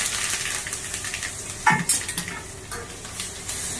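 Curry leaves and green chillies hit hot oil during a tempering for a Gujarati snack, giving a steady hissing sizzle with a sharper crackling burst partway through, close and moderately loud with light utensil clinks.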